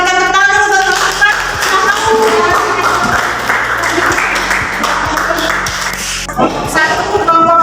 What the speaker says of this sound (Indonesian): kita berikan tepuk tangan dulu buat teman-teman